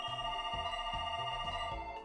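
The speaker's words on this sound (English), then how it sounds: "I always get phone calls when I'm streaming." A phone ringtone plays during a Pokémon HeartGold stream: sustained electronic tones over a repeating low pulsing pattern, moderately quiet, with no talking.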